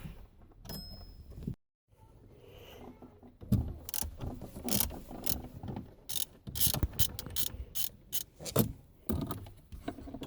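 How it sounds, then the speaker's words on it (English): A ratchet undoes bolts at the back of a VW Sharan (7N) rear trim panel, giving bursts of quick, close mechanical clicking separated by short pauses and light handling noises. "then we have 2 more bolts at the back. I'm gonna undo them as well."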